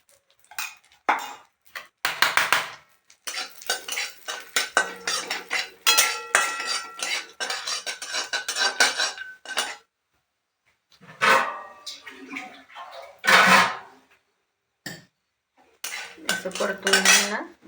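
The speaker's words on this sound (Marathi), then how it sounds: "हे बदाम आहेत, हे थोडंसं मी तुपात परतून घेत असते" Almonds being stirred in ghee in a pan for a sweet sheera: a busy run of metallic scraping and clinking of a spoon against the pan, in bursts with short pauses, close and fairly loud, with no talk.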